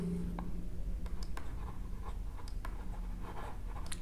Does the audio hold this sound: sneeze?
no